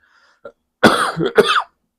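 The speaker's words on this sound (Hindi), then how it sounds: "मुझे खांसी हो रही है" A short dry cough, followed by two harsher, throaty coughs close to the listener, with silence in between.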